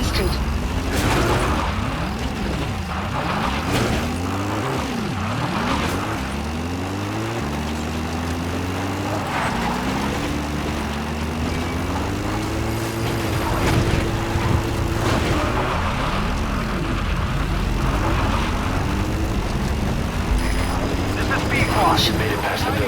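Support helicopter arriving in Metal Gear Solid V, a loud rotor and engine drone with sweeping pitch changes that rises and shifts as the aircraft comes in, continuous for the whole stretch with game sounds layered over it.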